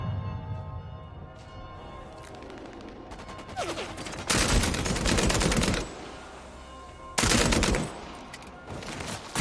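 Gunfire in a PS5 shooter game, with two loud bursts of rapid shots standing out over a steady backdrop of game sound and scattered quieter pops.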